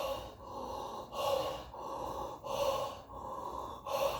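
A person breathes deeply and slowly in a guided breathing exercise, each long airy breath rising and falling in a steady, repeating rhythm, close to the microphone with no talking.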